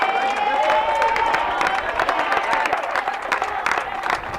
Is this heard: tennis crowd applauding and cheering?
yes